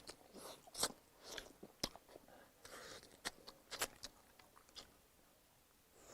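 Spicy fried sea bass is bitten and chewed with crisp, crunchy bites and soft mouth noises, close to the ear. The sounds come in irregular bursts over several seconds with no talk.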